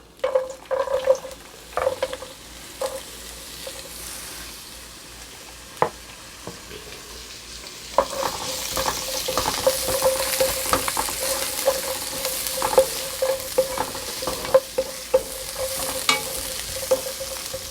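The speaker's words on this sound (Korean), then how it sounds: "팬에 식용유 조금 두르고 야채 볶을게요" Vegetables stir-fried in a little cooking oil in a pan for homemade jajang sauce, with a few scraping stirs first, then a louder, steady sizzle mixed with repeated spatula scrapes and taps.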